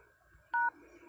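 A single short keypad dialing tone from a smartphone being dialed, a clean two-tone beep close up with faint room noise around it.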